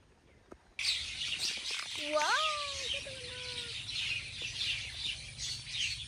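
Common myna birds call outdoors where they feed on jackfruit and grasshoppers, a few rising, whistled notes standing out over steady, hissing background bird chatter at moderate distance.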